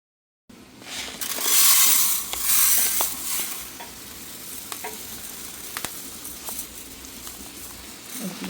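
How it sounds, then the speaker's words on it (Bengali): Pieces of broiler chicken fry in a pan for a roast, with a strong, close sizzle that swells early and then settles into a steady crackle, broken by light stirring clatter. "এদিক দিয়ে মুরগি ভেজে নিচ্ছি ব্রয়লার মুরগি রোস্ট রান্না করব"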